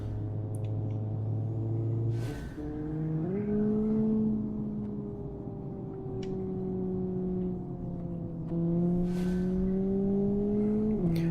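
Simulated car in BeamNG.drive on a time-trial lap, engine droning steadily and climbing in pitch through gear changes with brief shifts and slight tire noise, loud and continuous with no talking.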